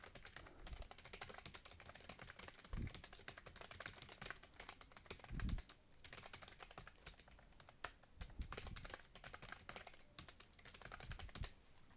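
Close, steady clatter of a computer keyboard as someone types Korean text, quick uneven keystrokes with a few heavier thumps of larger keys, alone and fairly quiet.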